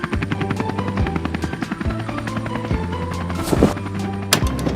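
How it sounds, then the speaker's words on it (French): A cartoon helicopter carrying a heavy load flies overhead, its rotor chopping in a loud, steady pulse with a few sharper thumps, heard alone. "dans le ciel, il y a un hélicoptère avec un gros chargement."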